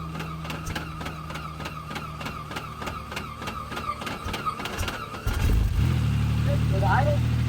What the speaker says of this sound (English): So hit the starter until she engages